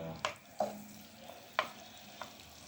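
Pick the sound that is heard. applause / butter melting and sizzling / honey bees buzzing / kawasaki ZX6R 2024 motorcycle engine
butter melting and sizzling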